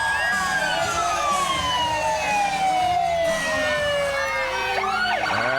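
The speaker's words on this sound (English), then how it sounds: "cranking up the sirens to get everyone pumped along with the music" Emergency vehicle sirens wail at the McCall, Idaho Winter Carnival Mardi Gras parade, loud and close, with a long falling tone, overlapping sweeping sirens and a rumbling engine underneath.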